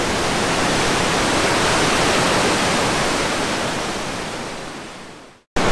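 Heavy river water rushes through the gorge at the Othello Tunnels near Hope, BC: a loud, steady, close roar with no talk, fading slightly before cutting off abruptly near the end.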